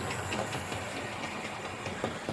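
Hornby model train from an industrial freight set runs on an old R965 controller, giving a steady whirring motor hum with faint rhythmic track clicks throughout, close and continuous with no talk.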